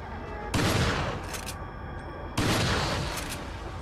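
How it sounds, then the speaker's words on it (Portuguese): Machine gun fire from the Wii game Resident Evil 4 comes in two sharp, dense bursts about two seconds apart, each a loud rattling volley that fades into a ringing tail. "Metralhadora. A metralhadora."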